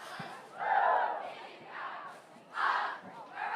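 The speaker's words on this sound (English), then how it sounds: "The cheerleaders currently cheering Indian Power." Cheerleaders chanting in rhythmic bursts at a high school football game, a distant group of voices rising and falling with crowd noise in the open stadium.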